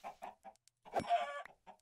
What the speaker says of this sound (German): Ah, ne, war nur Hühner.